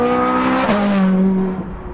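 A Ferrari F430 Scuderia on track, its engine loud and close, the note dropping sharply under hard braking as it downshifts, then fading into a lower hum.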